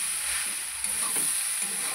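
Pasta frying in a pan over low gas heat, giving a steady soft sizzle and hiss with faint stirring scrapes, close and continuous with no talking.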